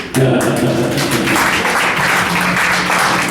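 A live crowd claps and cheers steadily at a radio show recording in Grand Rapids, Michigan, a dense, loud wash of applause that holds for the whole stretch, with a few voices mixed in.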